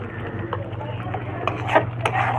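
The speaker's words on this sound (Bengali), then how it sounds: "এবার এগুলো খুব ভালো করে কষিয়ে নেব।" A spice paste is fried and stirred in a pan over a steady low hum, with soft sizzling and occasional scrapes and clinks of a utensil against the metal.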